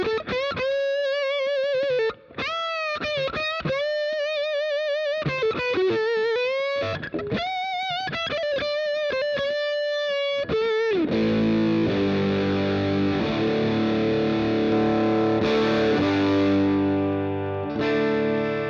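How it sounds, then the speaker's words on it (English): A Fender Custom Shop Eric Clapton Stratocaster through an overdrive pedal plays choppy, separated distorted notes and bends, then rings into sustained overdriven chords; the guitar plays alone, loud and close. "if you put an overdrive pedal on top of that, then you're really rocking"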